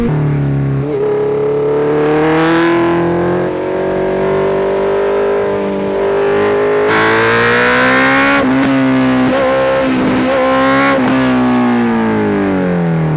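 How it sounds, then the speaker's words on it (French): A Honda CB 650F motorcycle rides past close and loud, its four-cylinder engine revving up and down through the gears, the pitch rising and falling with throttle blips, with no voices heard. "il y a des coups de fusil à chaque fois que je lâche les gaz"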